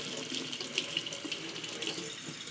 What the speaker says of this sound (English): So however you want to rinse off, wash off your potato, go ahead and do it.